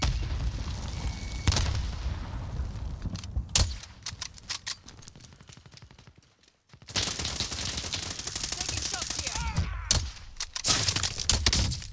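Frag grenade going off in Call of Duty Warzone amid a firefight, with sharp booms and heavy bursts of gunfire, a brief near-silent gap, then more loud shooting and blasts.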